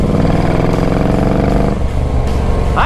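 A heavily modified Moto Guzzi motorcycle engine runs loud and close, with a throbbing, rumbling exhaust note that rises and falls slightly as it is ridden.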